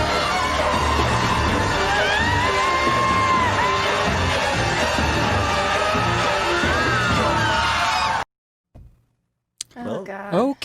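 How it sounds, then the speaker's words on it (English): Screaming and yelling from a montage of disaster-movie trailer clips, a loud dense crowd of shrieks and shouts lasting about eight seconds, then cutting off abruptly before a brief burst of voices near the end. "A lot of screaming."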